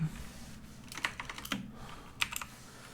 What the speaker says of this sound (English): Just type in Kevin Durant.